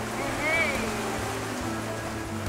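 A sailboat surfing downwind in 30-knot trade winds on the Atlantic, a continuous rushing wash of water and wind roaring along the hull, loud and close throughout.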